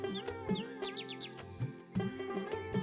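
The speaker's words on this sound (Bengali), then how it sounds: "মাঝে মাঝে শালিক আর দোয়েল পাখির ডাক ভেসে আসছে।" Common myna and oriental magpie robin calls drift in from around a rural tin-roofed mud house beside a field: faint, scattered chirps and short whistled notes at a distance over a steady musical background.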